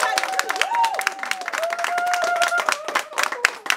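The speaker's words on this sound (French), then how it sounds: "Veuillez acclamer mon très cher frère Lolu." A church congregation claps and applauds throughout, steady dense clapping with voices and a sustained sung or spoken tone running over it, fairly loud and close.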